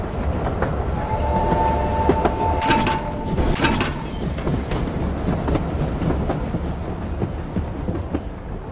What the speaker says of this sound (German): Oh nein, ich habe wieder die Bremse gezogen, ne?